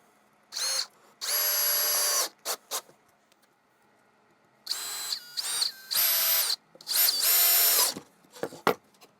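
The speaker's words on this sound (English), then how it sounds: "now we're gonna drive a couple of screws" A power drill drives screws into a glued wooden French cleat in several short, close, whirring bursts separated by silent pauses, with a faint rub of wood between runs.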